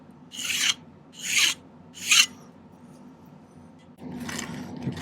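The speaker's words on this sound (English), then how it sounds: "I'm going to remove the excess solder on the solder joint here now" A hand file rasps excess solder off a silver solder joint at a silversmith's bench, with three short, sharp strokes evenly spaced, then a pause before a fourth, longer scraping pass, close and fairly loud.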